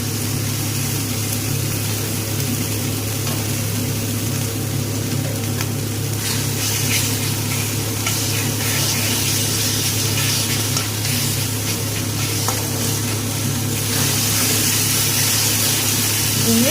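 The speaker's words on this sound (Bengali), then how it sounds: "দিয়ে মশলার মধ্যে ভালো করে ছানাটাকে কষিয়ে নেব" Homemade chhana (paneer) sautés in an oiled spice masala, a continuous loud sizzle that holds steady for the whole stretch, with faint scraping of stirring underneath.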